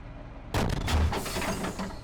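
A tank's main gun fires a sabot round in the Steel Beasts ProPE tank simulator, one sudden loud blast breaking out of quiet and rolling into a long rumbling decay.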